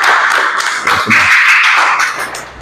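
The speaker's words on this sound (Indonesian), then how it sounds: "Oke, tepuk tangan untuk kalian semuanya." Classroom applause for the students, a short burst of scattered hand claps and taps from a small group, close and fairly loud, fading out after a couple of seconds.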